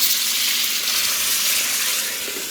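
Veggie pot stickers sear in a hot pan as water goes in, giving a loud, continuous hissing sizzle that eases slightly toward the end.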